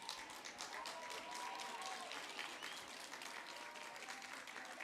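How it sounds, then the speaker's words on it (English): An audience at the 2022 Quinnipiac University undergraduate commencement claps in a dense, continuous wash of applause for graduates' families, heard from a moderate distance with a faint tonal whistle or cheer mixed in. "Give them a round of applause."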